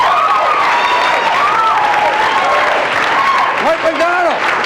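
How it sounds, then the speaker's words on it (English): A live audience at a 1984 stand-up comedy show at Tufts applauds steadily for a comedian, dense clapping filling the room while overlapping voices and whoops rise through it. "Please, a nice round of applause for Mr."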